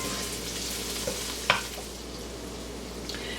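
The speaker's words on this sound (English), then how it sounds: "then we're going to add our garlic onion mixture. We're going to stir this up" A garlic and onion mixture sizzles quietly in a frying pan while being stirred, a soft steady hiss with one brief utensil scrape partway through.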